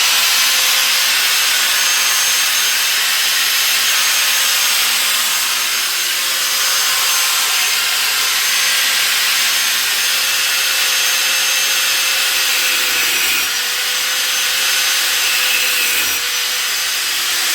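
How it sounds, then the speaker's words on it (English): A saw grinds steadily through metal microwave parts, a harsh, continuous high rasping close up with slight shifts in pitch as the blade works, no talk. "Cut here on this side, then we'll flip it and cut on the other side."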